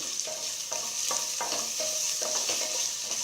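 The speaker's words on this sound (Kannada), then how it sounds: "ಸ್ವಲ್ಪ ಕೆಂಪಗಾಗೋ ತನಕ ಹುರ್ಕೊಳ್ಳಿ." Chopped onions fry and sizzle in a pan with a steady bright hiss, while a spoon stirs them in repeated rhythmic scrapes every half second or so, close and alone.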